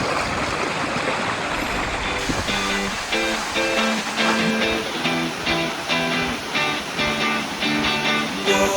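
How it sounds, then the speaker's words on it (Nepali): Mohini Jharna waterfall at Kulekhani, its steady rushing water filling the whole stretch, with tonal engine-like bands drifting in over the roar. "झर्ना चाहिँ यहीँनिर छ"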